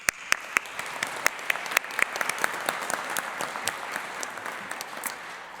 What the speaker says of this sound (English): So please do give yourselves the biggest round of applause